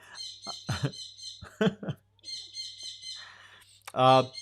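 A pet bird indoors chirps, whistles and squawks in loud, erratic bursts, with high tonal calls and a harsh harmonic-rich squawk near the end, close to the microphone.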